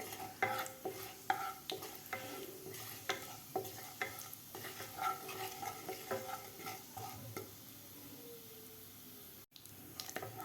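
Half a spoon of cumin seeds frying in oil, a quiet sizzle under frequent rhythmic stirring scrapes and clinks of a spoon against the pan, softening toward the end.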